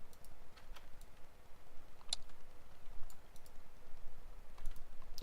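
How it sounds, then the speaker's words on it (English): Soft rapid clicking of keyboard typing from an avatar in the Second Life game, a light continuous patter of keys over steady background noise, with no voices. "She's typing."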